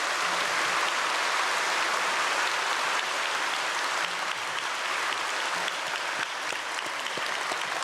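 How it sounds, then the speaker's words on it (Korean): Large congregation at an early-morning church prayer service bursts into sustained, even applause, a dense rain-like wash of clapping that stays loud and unbroken throughout. "크게 박수로 축복하겠습니다"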